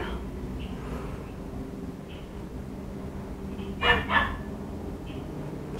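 Dogs bark twice in quick succession, a short sharp pair of barks at moderate distance against a low steady background hum. Fainter yips are heard scattered elsewhere.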